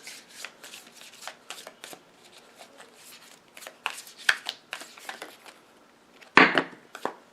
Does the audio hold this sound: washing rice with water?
no